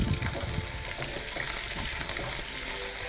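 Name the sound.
chopped onion frying in oil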